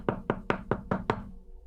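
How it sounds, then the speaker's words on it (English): Six sharp knocks in a steady rhythm on what sounds like a door, close and fairly loud, heard alone with no voices, then a quiet pause at the end. "I'm gonna get mad listening to those knocks."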